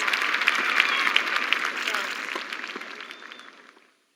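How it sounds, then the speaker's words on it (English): Spectators at a tennis match between Serena and Venus cheer and applaud in a dense, even burst of clapping that fades out over a few seconds. "You can hear the crowd cheering."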